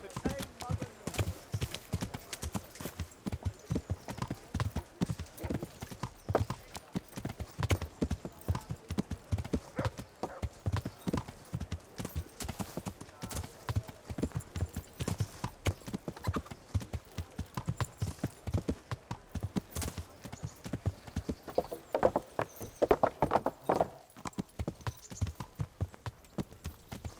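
Steady rhythmic clip-clop of horse hooves trotting on ground in the video game Kingdom Come: Deliverance, continuous throughout, with occasional voices and a brief whinny-like sound near the end.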